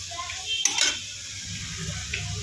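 A spoon scrapes and clinks against a pan while tomatoes, green chili and onions are stirred together, one sharp metallic knock standing out over a steady low kitchen hiss.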